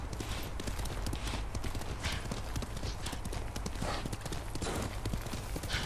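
Steady clip-clop of horse hooves trotting at a brisk, even rhythm in the video game Ghost of Tsushima, close and continuous throughout, with a faint voice now and then in the background.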